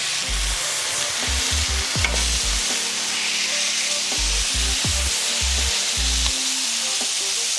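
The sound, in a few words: burger patty frying and sizzling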